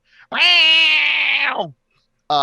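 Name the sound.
voice imitating a roar like a cat hiss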